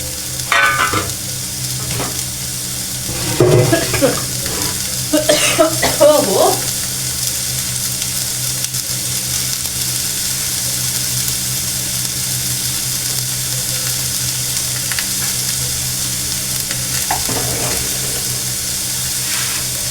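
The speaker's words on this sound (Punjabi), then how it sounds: "ਤੜਕਾ ਆਪਣਾ ਭੁੱਜ ਰਿਹਾ ਹੈ" A tadka tempering for dal sizzles and fries in a pan with a steady hiss, a few stirring scrapes early on, then a continuous even crackle.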